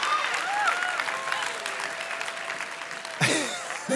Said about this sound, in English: let's give the Lord a hand clap for that wonderful.